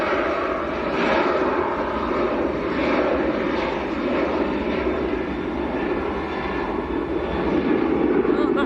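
A Jet2 airliner flying at Manchester airport, a loud, sustained broadband jet roar that holds steady across the whole stretch and swells slightly toward the end, with someone talking nearby.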